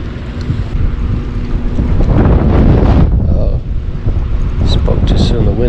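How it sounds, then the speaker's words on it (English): Strong wind buffets the microphone on a river during kayak fishing, a loud rushing roar that continues throughout, with someone speaking over it. "wind's picking up."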